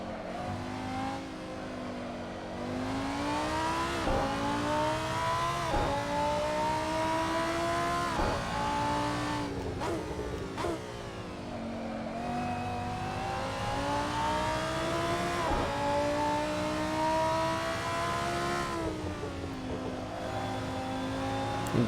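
Race car engine in the Assetto Corsa racing sim at Barcelona GP, revving up and down through repeated gear shifts with tyres sliding, steady and close for the whole stretch with no talk.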